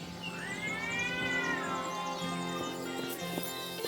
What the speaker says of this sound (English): Hear a meow meow?